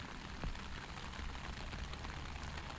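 Steady rain patters outdoors along the Great Glen Way, a dense, even hiss of drops with no break and no voices.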